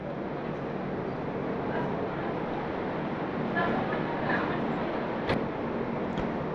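Train 02501, an Agartala-bound special fare service, pulls out of platform 5 at Kolkata station with a steady, dense rumble of wheels and carriages, brief clanks rising near the end, and voices faintly in the background.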